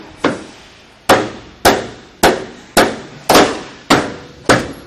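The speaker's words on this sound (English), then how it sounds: "you may end up tapping in the back to get this secure here" A rail channel for a side rack is knocked into the front side extrusion of a 7712H BT vehicle with eight sharp, evenly spaced taps, close and loud, each ringing briefly before the next.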